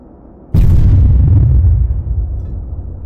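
A 120mm tank cannon fires a single loud, close blast in Arma 3, followed by a long rumbling decay.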